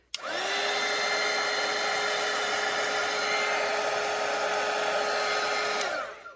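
Hair dryer blowing on a watercolour painting, switching on with a click, holding a steady loud whine for about six seconds, then shutting off, close and alone.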